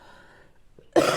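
A woman who is ill gives a single sudden, loud cough near the end, after a stretch of near silence.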